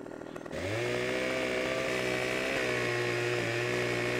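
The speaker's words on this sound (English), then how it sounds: "just got a chainsaw." Chainsaw in a farming video game, starting up and then revving steadily at a loud, even drone with slight pitch shifts and no talking.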